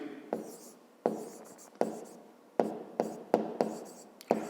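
Handwriting out a fifth-grade math exercise solution, pen strokes scratching in repeated bursts, each starting with a sharp tap and trailing off, close and fairly quiet with no talk.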